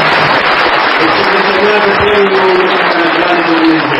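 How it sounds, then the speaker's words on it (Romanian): Theatre audience at an anniversary celebration bursts into steady, loud applause, dense continuous clapping from a large crowd filling the hall throughout. "Pentru asta să-l aplaudăm."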